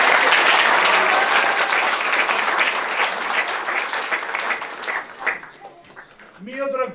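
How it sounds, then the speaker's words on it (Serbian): Sustained, dense applause from a church congregation at an ordination service in Leskovac gradually thins out over several seconds before a voice takes over. "Jedan veliki aplauz za brata Dragana."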